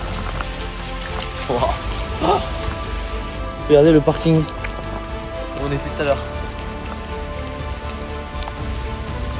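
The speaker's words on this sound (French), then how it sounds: "ça continue de pleuvoir et tout" Steady rain patters on a hard surface throughout, while people speak briefly and exclaim over it.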